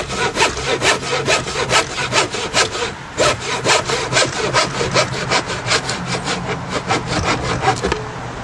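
Short pieces of wood cut with a hand saw for a conduit camera mount, a brisk rhythmic rasp of strokes back and forth, close and loud, with a short pause partway through.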